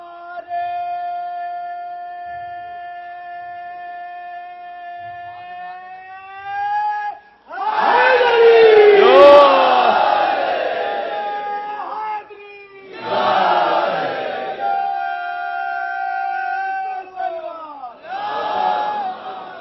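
A large religious gathering at a Jashn-e-Ghadeer event in Rauza-e-Kazmain, Lucknow, roars out a slogan in loud bursts of massed voices, each answering a lead caller's long amplified call through a reverberant sound system, repeated three times.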